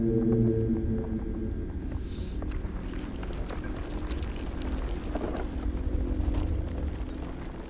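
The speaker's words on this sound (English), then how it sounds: "That is the sound of plants that grow." In the video game Pathologic 2, the sound of growing plants comes as a dense, rumbling ambient drone with low tonal layers, scattered crackles and a brief hissy swell, continuous and fairly loud, with no speech.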